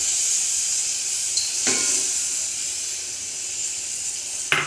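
Melted jaggery sizzling and hissing in a pan while being stirred and mixed for homemade cough syrup, a steady soft fry with a few sharp scraping taps of the utensil.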